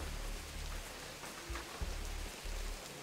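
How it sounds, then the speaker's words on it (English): Steady rain falls in a game world at night, a soft continuous hiss with low rumbling patches and occasional heavier drops. "Is it gonna stop raining, though?"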